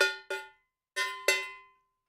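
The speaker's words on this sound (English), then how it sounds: "You guys haven't seen a cowbell in a while. I thought I'd show you." Four metallic cowbell strikes, two quick hits, a pause, then two more, each ringing bright and decaying, close and clear with nothing else.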